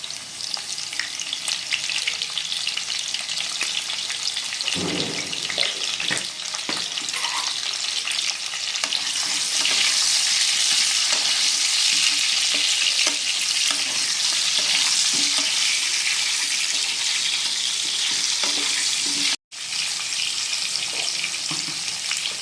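Potatoes frying in a pan with mutton for a Bengali mutton curry, a loud continuous sizzle with stirring scrapes that rises midway, then cuts out for a brief moment before resuming.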